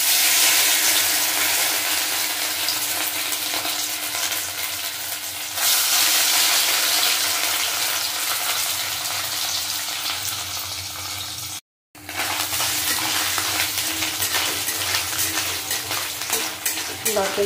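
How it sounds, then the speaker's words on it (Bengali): Coconut pieces fry in hot white oil mixed with a little ghee, a dense steady sizzle with stirring scrapes, continuous and close apart from one brief break. "প্রথমেই নারকেলগুলো ভেজে নেব।"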